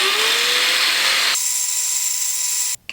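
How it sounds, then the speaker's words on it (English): A power tool cuts through a metal motorcycle exhaust pipe for a custom Grom exhaust, a loud continuous high-pitched whine that drops in pitch partway through, then stops abruptly near the end. "go ahead and cut it right there"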